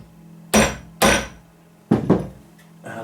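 A hammer taps a recoil pad being fitted onto a K31 rifle stock, four hard strikes close up, two evenly spaced, then a quick pair, with a softer knock at the end.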